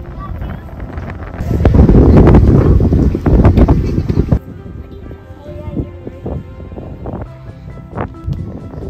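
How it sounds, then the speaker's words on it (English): Strong wind at a campground buffeting the microphone in loud gusts for the first few seconds, then dying down to fainter rustling with scattered knocks. "Ooh, it's windy."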